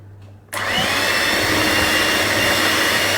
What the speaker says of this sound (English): you can just use your mixer on a low and just mix that until it's combined